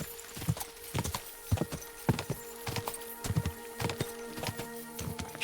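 Horse hooves clip-clopping at a steady riding gait in the medieval video game Kingdom Come: Deliverance, a regular close rhythm of hoof strikes over a faint continuous ambient tone.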